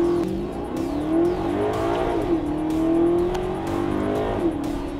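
A 2013 Maserati GranTurismo Sport's 4.7-liter V8 exhaust, loud and close, revving up and down in smooth rising and falling sweeps with sharp pops between gear changes.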